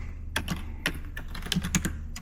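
Someone types on a computer keyboard while coding medical charts, giving irregular, close clicks and short bursts of keystrokes with no talk.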